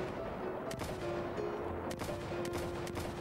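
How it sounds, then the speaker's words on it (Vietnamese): Gunfire in a Minecraft zombie-apocalypse survival game, several sharp separate shots at irregular intervals over a steady, dense background hum, no voices. "Ủa sao mình vẫn còn nghe tiếng bắn cành cành đó?"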